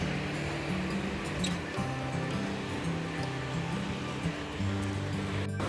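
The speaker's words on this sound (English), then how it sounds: "Listening to the sounds of the waves." Steady wash of surf rolling in continuously on the beach between Eraclea Mare and Caorle, with a low rumbling undertone and no voices, fairly close and constant throughout.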